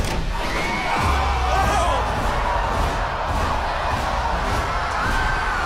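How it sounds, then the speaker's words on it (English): A crowd of contestants on a platform above a pile of cash cheers loudly in unison on command, a sustained roar of shouts and whoops with a low rumble underneath. "they were instructed to cheer"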